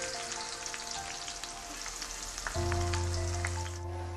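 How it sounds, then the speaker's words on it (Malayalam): Sliced onions deep-fry in hot oil for a biryani garnish, giving a steady, close bubbling sizzle that swells a little louder partway through and continues without any talk. "ഇനി ഗാർണിഷ് ചെയ്യാൻ വേണ്ടിയിട്ട് കുറച്ച് സവാള കൂടി വറുത്തെടുക്കാം"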